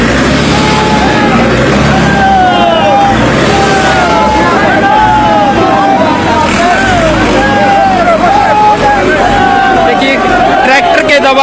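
Farmers' tractors move through a protest crowd, engines rumbling and whining beneath loud crowd babble and close speech, with shifting engine tones throughout.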